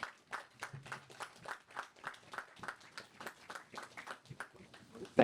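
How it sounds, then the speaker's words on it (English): An audience applauds at a September 11th remembrance evening, with scattered hand claps coming in irregular rhythmic waves, fairly faint and from a distance. "Please give them a round of applause"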